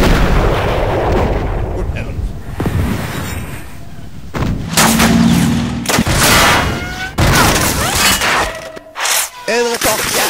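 Loud gunfire and artillery blasts in a war scene, a rapid run of shots followed by heavy booming impacts and crackling bursts, with voices shouting among the explosions.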